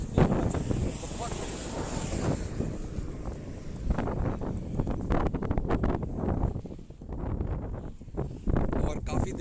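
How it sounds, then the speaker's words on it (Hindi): Strong gusting wind buffets a rider on a Pulsar 220F motorcycle during a long highway run, a loud, roaring rumble of wind noise that swells and dips, with someone talking over it. "बहुत तेज हवा चल रही है"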